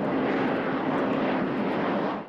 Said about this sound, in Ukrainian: Перший демонстраційний політ Ан-26.